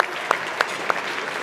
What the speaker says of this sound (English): Big round of applause to our friends at Park for this incredible service tonight